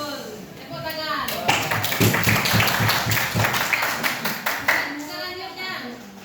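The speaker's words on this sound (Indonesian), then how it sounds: "Tepuk tangan." A classroom of children claps together in a burst of rhythmic, fairly close applause that swells and fades over several seconds, with young voices chattering around it.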